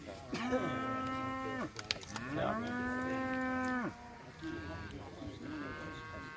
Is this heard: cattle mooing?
yes